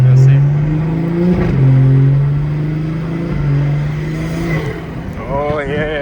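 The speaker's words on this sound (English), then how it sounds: "I wonder if the camera picks up The turbo." A big-turbo BMW 340i of about 800 hp accelerates hard, heard from the passenger seat as a loud rising engine drone through several gear changes, with tire and road rumble underneath.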